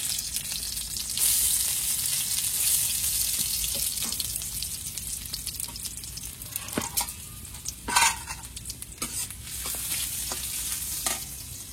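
Garlic frying in oil in a pan for cooking leafy greens sizzles steadily at close range, with occasional stirring scrapes and clinks over the hiss.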